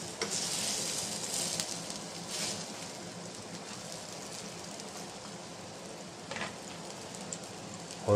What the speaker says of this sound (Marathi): आणि आता हे आपण त्याला फ्राय करतो आहे.